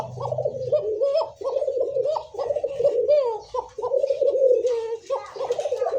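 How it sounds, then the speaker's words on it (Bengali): Pigeons kept for sale at a pigeon market coo repeatedly at close range, a rhythmic series of throaty calls broken by brief pauses, loud and clear over quiet surroundings. "ডাকের কবুতর তো, এটা ডাক, যেটা জোরানো ডাক ডাকতেছে"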